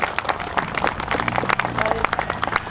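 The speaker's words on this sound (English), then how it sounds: "Would you give him a round of applause there?" Crowd applause at an outdoor classic and vintage motor show in Dublin, a short burst of mixed clapping with some low rumble underneath.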